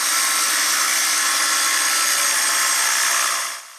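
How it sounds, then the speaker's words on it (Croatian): A power tool grinds excess stone from a sculpture in progress, making a loud, continuous harsh whine that holds steady for several seconds before cutting off abruptly. "U ovoj se najosjetljivijoj fazi koriste alati za skidanje viška kamena."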